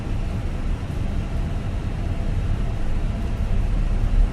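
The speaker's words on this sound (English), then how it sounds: "I really love the sound of these engines." Fenix A320 airliner engines in Microsoft Flight Simulator 2024, a steady broadband roar with a deep low rumble that holds evenly throughout, loud and continuous with no talking.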